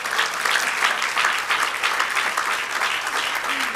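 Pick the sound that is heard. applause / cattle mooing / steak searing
applause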